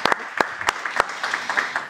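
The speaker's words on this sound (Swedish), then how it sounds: "Jag tycker vi ger tack, Henrik, en applåd nu när vi är här och kan göra det den fysiskt." Audience at a Swedish panel event on working conditions clapping for a guest, a brief burst of scattered, close handclaps that stay fairly light and quick rather than building into sustained applause.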